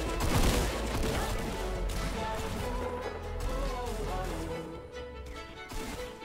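Dense gunfire in Fortnite, a continuous loud barrage of shots and impacts filling the whole stretch, with game sound effects layered throughout.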